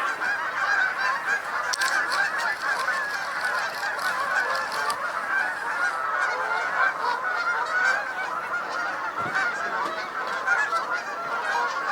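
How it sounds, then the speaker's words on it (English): A dense chorus of geese honking continuously, many birds calling at once from a moderate distance, steady and unbroken for the whole stretch. "Oh, lots of geese in the air."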